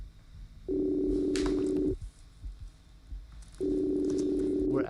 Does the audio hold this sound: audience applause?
no